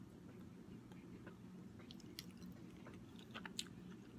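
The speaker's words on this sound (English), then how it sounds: "Kimchi! The crunchiness." Crunchy kimchi is chewed close to the microphone during a mukbang, with quiet, irregular wet crunches and bites over a soft background hum.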